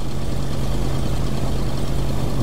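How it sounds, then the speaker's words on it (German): A car engine in the video game Kona idles loudly and steadily at close range, a low, even rumble with no other sounds. "Und warum macht er nicht den Motor aus?"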